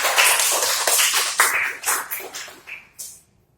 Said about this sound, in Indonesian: Tepuk tangan dulu untuk kelompok dua